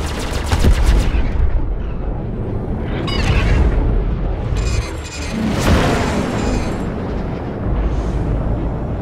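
Dense, continuous gunfire and impacts pound a ship's shields during a Gladius squadron space battle in Star Citizen, loud and sustained throughout with booming bursts and no speech.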